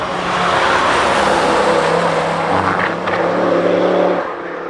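Honda Civic EP3 race car on a circuit warm-up lap, engine roaring loud and steady close by with a sustained high-revving drone that eases slightly near the end.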